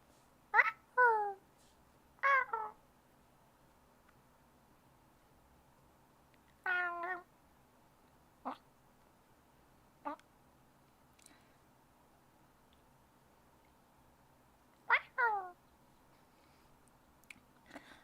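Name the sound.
person imitating a cat meowing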